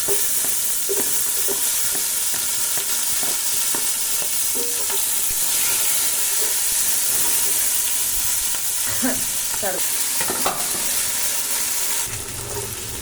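Onions and vegetables stir-fry for veg fried rice with a loud, steady sizzle throughout, broken by frequent scraping and clacking of a spatula tossing the food in the pan.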